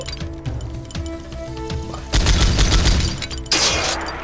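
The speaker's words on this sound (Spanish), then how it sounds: "Lo que nos permite es pegar unas ráfagas enormes, disparos, ahí lo veis." Rapid automatic gunfire bursts from a machine gun in the video game Powerslave Exhumed, loud and dense, with a sharper crash of impacts near the end.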